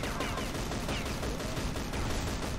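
Dense, continuous gunfire from the CrossFire shooter game on a nightmare-difficulty AI mode: overlapping automatic bursts and shots fill the whole stretch at steady loudness, with no talk.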